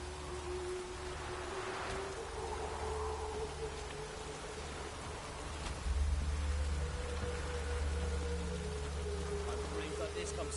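Steady rain falls in the video game The Witcher Wild Hunt, a continuous hiss of rainfall under a low hum, with brief voices and swelling background music.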